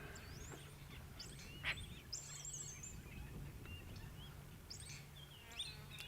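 Assorted wild birds call at sunrise in the Sabi Sand bush on safari, with bright chirps, whistles and short trills scattered over a low steady hum, fairly faint and at middle distance, no talk.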